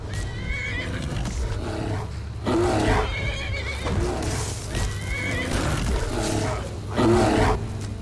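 A horse in the video game Skyrim neighs and whinnies several times, loud and close, with shrill repeated calls over a steady low ambient rumble.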